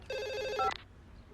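A telephone in a movie scene gives a single short electronic ring burst that stops abruptly, fairly faint against a quiet background.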